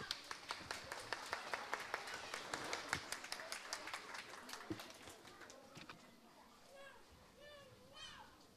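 Audience at a dance show in Płońsk applauds after a ballet group's performance, with brisk clapping and children's voices that fade out as a speaker talks near the end.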